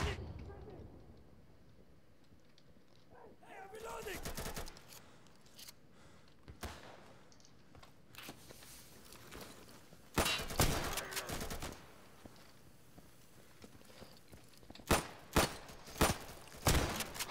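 Gunfire in the video game Insurgency: scattered sharp shots and short bursts arrive at irregular intervals, some near and loud, others fainter, with quieter stretches between them.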